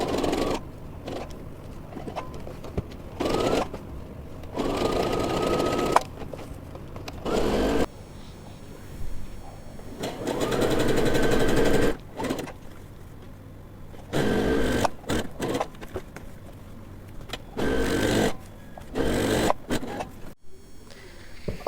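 Zigzag stitching on a home sewing machine fitted with a stretch needle, making a raglan sleeve top: bursts of motor whir that start and stop, with short pauses between runs, fairly close and steady, and no talking.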